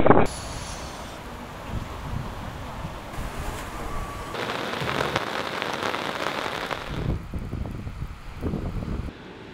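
Heavy rain from a passing storm pours steadily onto a surface near a beach in Rio, with wind gusts buffeting the microphone throughout.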